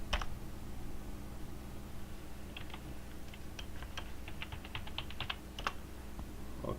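Password keys tapped on a computer keyboard during a Zabbix server install: scattered light clicks, then a quicker run of keystrokes, close and fairly quiet over a steady low hum, with no talking.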